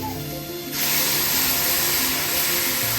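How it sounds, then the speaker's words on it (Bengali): Water is poured into a hot cooking pan of mango chutney, setting off a sudden loud hissing rush that continues steadily after a short quieter moment. "এবার দেবো জল, ঢেলে দেবো"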